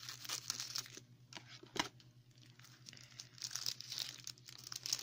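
A Christmas envelope being cut open, with close crinkling and tearing paper, uneven rustles and one sharp snip near the middle.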